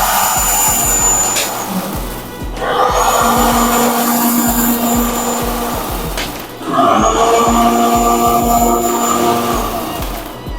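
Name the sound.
cold spark machines running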